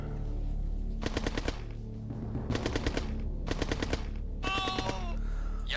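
Machine-gun fire in the Red Alert 1 strategy game, three rapid bursts of rattling shots over a low background drone, with a brief game voice line near the end.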